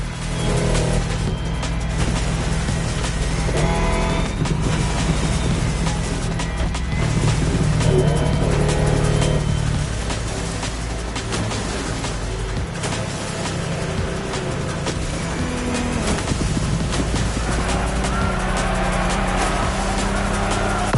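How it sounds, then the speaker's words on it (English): A Lamborghini Technomar speedboat roars at racing speed in the game The Crew Motorfest, its engine droning loud and continuous with shifting pitch throughout. "our challenger handled that gorgeous Lamborghini Technomar like a true sailor"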